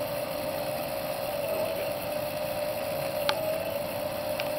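A motorized fire tornado rig's electric motor runs steadily with a constant droning hum and faint whine, close by, plus two brief sharp ticks.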